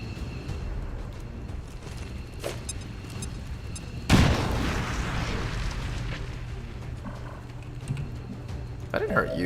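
A fire grenade goes off in XCOM 2 with a sudden sharp blast and a rolling, roaring burn that trails away, set under quiet game ambience and intermittent speech.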